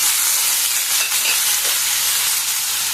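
Tomato frying in a pan with onion and potato as it is stirred, a dense, steady sizzle with a bright hiss throughout and faint scraping of the stir, close and loud, with no talk.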